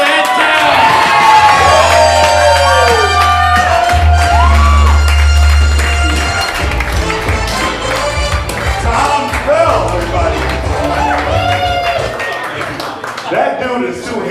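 A comedy club crowd cheers, whoops and applauds a comedian loudly and steadily, with shouts rising over the clapping throughout.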